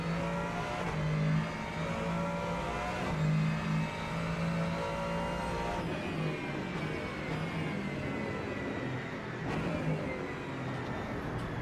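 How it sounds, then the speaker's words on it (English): A Mustang race car in the racing game Rennsport revs and downshifts, its engine pitch stepping down several times with a steady droning tone throughout, fairly close with no talking. "I do like the way the Mustang sounds when it downshifts, though."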